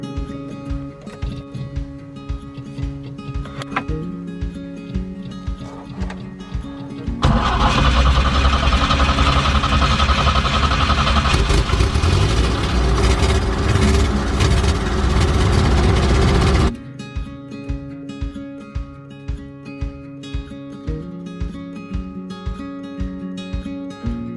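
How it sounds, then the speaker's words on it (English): A vintage van engine running rough, uneven idle chugging up close, then a loud revving stretch lasting several seconds before it drops back to a lumpy, stumbling idle with occasional pops. "The van did actually run. It wasn't the smoothest I've ever heard it run. It backfired a few times."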